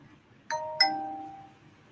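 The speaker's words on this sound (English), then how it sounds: "My son's like, who's at the door? I hear a doorbell." A phone notification set to a doorbell chime rings two clear ding-dong tones in quick succession, the second ringing out and fading, fairly close in a quiet room.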